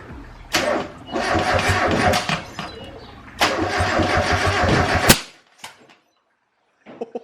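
Turbocharged Mazda Miata engine cranking on the starter and firing up for the first time: two loud grinding, sputtering bursts of a few seconds each, a sharp pop ending the second, then brief quiet clicks and thuds.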